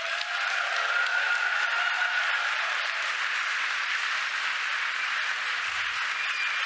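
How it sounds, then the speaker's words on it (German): Steady audience applause at a science slam event for a speaker, with dense continuous clapping filling the room at an even level from start to finish, and no talking. "Applaus für Moritz!"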